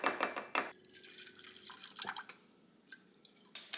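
Rice rinsed in water in a kitchen, with close splashing, dripping and trickling, a few louder sloshes at the start and quieter water movement after, no talking.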